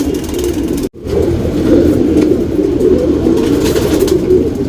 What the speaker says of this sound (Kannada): ಇದು ಲಾಲ್ದುಮಾ ಅಲ್ಲಿ ಗಂಡು ಹಕ್ಕಿ